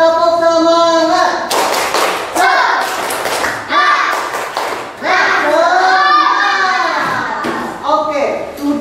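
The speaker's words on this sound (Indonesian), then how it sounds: "Kurang semangat, cek dulu semangatnya. Tepuk semangat." An elementary school class of children performs a rhythmic spirit clap in a classroom, with loud patterned bursts of hand claps and children chanting along in unison between them.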